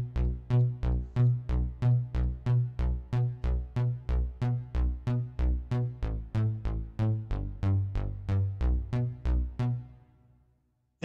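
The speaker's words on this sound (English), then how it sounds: "Bass is doing octaves like a disco" A deep keyboard bass line bounces in steady disco-style octaves, alternating low and high notes in a quick even pulse that repeats for several seconds before fading out.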